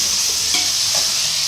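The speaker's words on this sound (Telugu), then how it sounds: "ఇదిగోండి ఇక్కడ అల్లం వెల్లుల్లి పేస్ట్ ఫ్రై అయిపోతుంది కర్రీ కోసం." Freshly made ginger garlic paste frying in hot oil for a mutton curry, a bright, steady sizzle with the soft scrape of stirring, close and fairly loud.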